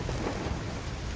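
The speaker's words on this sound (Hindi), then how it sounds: "यहाँ पर बारिश तेज हो चुकी है, इंटेंस हो चुकी है।" Heavy monsoon rain pours down in Delhi near the Taj Mansingh five-star hotel, a dense, steady roar of downpour that holds constant and loud throughout with no voices.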